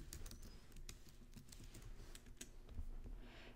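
Steady typing on a computer keyboard, a fast run of light clicking keystrokes over a low background hum, close and moderately quiet with no speech.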